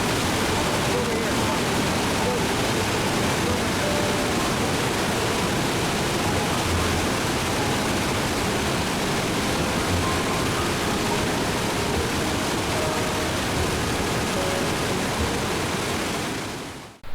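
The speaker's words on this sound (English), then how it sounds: "the two channels converge and cascade another 25 feet into the narrowest and deepest portion of the gorge." A waterfall in a basalt gorge in Southern Oregon pours in a loud, unbroken roar of rushing water that holds steady throughout and cuts off abruptly at the end.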